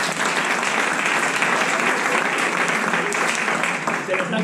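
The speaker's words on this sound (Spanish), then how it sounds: "le podemos dar hasta un aplauso" An audience applauds together at a Spanish-language book presentation, a dense, steady wash of clapping that holds evenly from start to finish with no voices rising above it.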